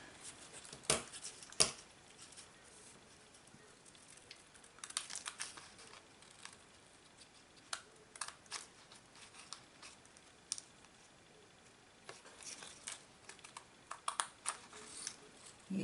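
Quiet, close snipping and crisp clicks of scissors cutting through an adhesive sheet, in irregular bursts with soft rustling between.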